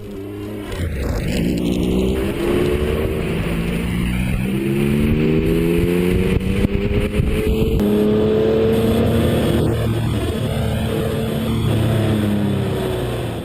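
A 9FF GT9 Club Sport twin-turbo hypercar engine revs repeatedly, loud and close, its pitch sweeping up and down in rising and falling surges with no talking.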